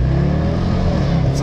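A car without road registration drives past close by, its engine a loud, steady rumble through the whole short stretch, slowly fading toward the end.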